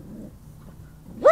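A dog gives a soft low whine, then one sharp, loud bark near the end, heard outdoors close by with no talking.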